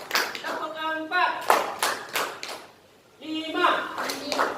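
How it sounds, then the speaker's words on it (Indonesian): Group of trainees in a leadership training session clap their hands in unison on spoken commands, with sharp synchronized bursts between loud instructions from a leader. "Tepuk 1. Tepuk 2. Tepuk 3. Tepuk 4."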